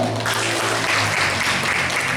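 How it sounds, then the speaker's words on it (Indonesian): Clapping rises from the audience at a seminar on preparing students to enter the workplace, a dense burst of hands applauding over a low, humming room background. "tepuk tangan dulu"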